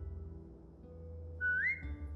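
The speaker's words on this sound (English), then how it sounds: "Whistle and tell her to lie down." A short rising whistle to call a dog named Rosie in The Walking Dead video game, a single clear upward-sliding note near the end over a low steady background hum.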